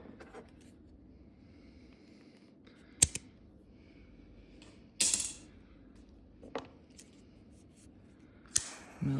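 Scissors snipping yellow and brown cord while making a shepherd's sling, four sharp separate cuts spaced a few seconds apart over a quiet room background.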